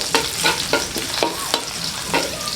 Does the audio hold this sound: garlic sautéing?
yes